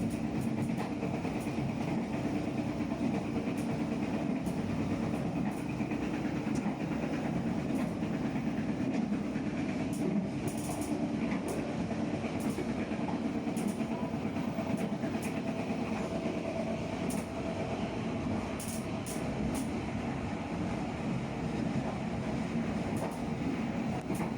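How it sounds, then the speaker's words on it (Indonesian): Joglosemarkerto passenger train rolling across the Serayu bridge in Banyumas, heard from inside as a steady broadband rumble with faint wheel clatter and occasional brief rattles throughout, no voices. "Kereta mengiringi perjalanan sang Joglo-Semarkerto menapaki jalur indah di jantung Banyumas"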